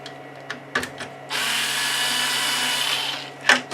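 A cordless power drill driving out Phillips screws while an old controller is taken apart, a couple of short blips and then a steady whirring run of about two seconds, close and alone.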